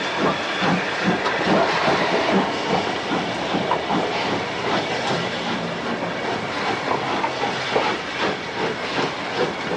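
LMS Jubilee class steam locomotive 45596 Bahamas of the Keighley and Worth Valley Railway, heard at a Nene Valley Railway Silver Jubilee event: a steady loud hiss of steam with rhythmic chuffing and faint clickety-clack of rolling wagons throughout.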